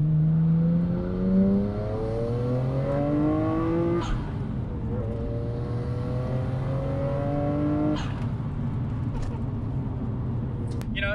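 A 600 hp twin-turbo Nissan Skyline R33 GT-R with a sequential turbo setup accelerates hard through the gears, engine note climbing steadily between shifts, loud and close from inside the car.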